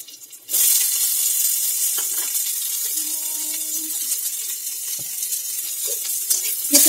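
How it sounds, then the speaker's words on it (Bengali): Chopped onion hitting hot oil with a green chilli in the pan, setting off a sudden loud, steady sizzle that continues with faint clinks. "কাঁচা লঙ্কা দেওয়ার পর আমরা এতে দিচ্ছি পেঁয়াজ কুচি।"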